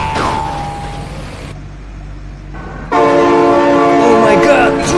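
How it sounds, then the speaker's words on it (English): A passing train's horn sounds in the driving game BeamNG, a sharp tone at the start followed by a loud, sustained multi-note blast that swells in over engine and game noise. "Oh my God, train!"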